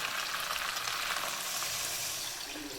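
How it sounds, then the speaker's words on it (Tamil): Tamarind water hits a hot pan of sautéed onions for prawn kuzhambu, producing a dense, steady frying hiss up close that eases slightly toward the end, with no voices. "இப்போ நம்ம புளி ஊற்ற போகிறோம்"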